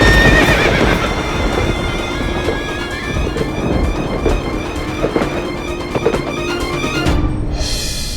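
Horse whinnying loudly near the start, followed by steady clip-clop of hooves walking on a hard surface, with a dramatic music bed from a Hindi courtroom drama running underneath.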